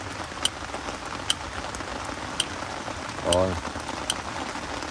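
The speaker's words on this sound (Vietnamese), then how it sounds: "Với lại trời mưa nữa." Steady rain falling on a surface with a dense patter and occasional louder drips, close and continuous, while someone briefly speaks over it.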